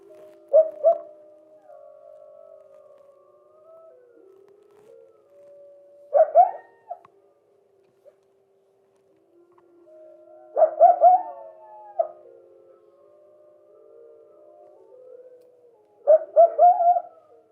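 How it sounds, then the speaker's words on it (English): Recorded wolves and coyotes howling in Yellowstone, with long, clear, distant howls rising and falling in four separate bouts amid deep quiet, some with quavering, yippy breaks. "what it might sound like between the difference of howling of wolves and coyotes"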